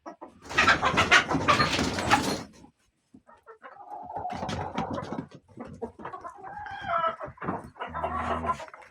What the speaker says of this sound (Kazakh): Тауықтар бәрін қамайық.